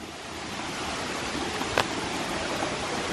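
Plenty of water rushes steadily through a stream near a ram pump intake, a constant broadband wash with one brief sharp knock partway through.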